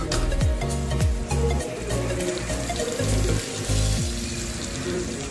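Minced meat with ginger garlic paste added fries in a pan for matar qeema, a steady loud sizzle with stirring scrapes and clinks close by.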